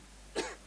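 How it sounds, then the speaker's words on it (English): A single short, soft cough comes from a man at a press event, standing alone against faint room noise. "No, it was a cough."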